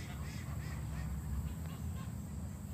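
Ducks and geese honk and quack in a noisy, continuous chorus, loud and close, with overlapping calls throughout.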